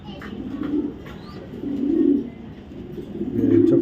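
Racing pigeons of a club's 2024 line coo in low, soft bursts, three swelling phrases close by with a faint ambient background and no talk.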